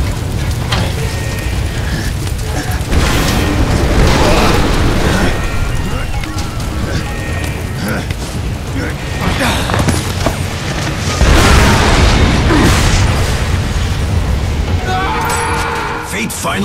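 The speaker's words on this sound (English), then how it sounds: "I predict an imminent detonation within the gravity core generators." Loud, dense rumbling blasts and crackling booms from the video game Bulletstorm fill the scene, with voices talking over the continuous chaotic din.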